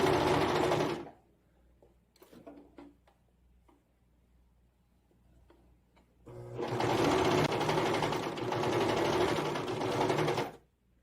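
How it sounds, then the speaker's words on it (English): A serger stitching a fabric seam on capri trousers runs in a loud, close, rapid mechanical whir for about a second, stops for a quiet stretch with faint handling clicks, then buzzes again steadily for about four seconds. "So I'm going to really slowly and carefully serge this all the way along"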